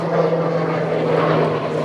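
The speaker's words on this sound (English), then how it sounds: "have a jet flying over." Jet aircraft flying overhead above an outdoor beekeeping yard, a loud, steady broadband roar with a droning engine hum, sustained throughout with no talking.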